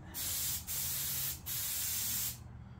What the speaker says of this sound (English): we're going to open up the throttle on this thing a little bit and spray the flat areas